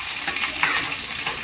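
Coconut pieces for chutney sizzle in a pan while being stirred, a continuous close frying hiss with soft scraping.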